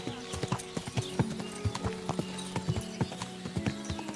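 Horse hooves clip-clop in a steady walking rhythm in the video game Kingdom Come: Deliverance 2, close and distinct over a faint musical drone, with a brief voice in the background.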